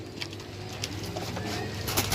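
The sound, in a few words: badam sira pigeon cooing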